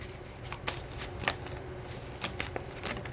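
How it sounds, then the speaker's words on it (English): Tarot cards being shuffled and drawn from a deck, giving soft papery riffles and flicks in several short bursts, close and quiet with no talking. "Let me get another card for the fire signs."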